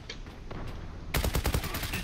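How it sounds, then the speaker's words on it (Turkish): A bomb goes off in the shooter game Zula on a ship map: quiet game ambience, then a sudden loud blast that keeps roaring and crackling for the rest of the moment. "Oha abi adam da bomba patlattın"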